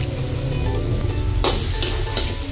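Chicken curry with turmeric and curry powder sautés in a pan, giving a steady close sizzle and low rumble, with a few brief scraping strokes of a stirring utensil.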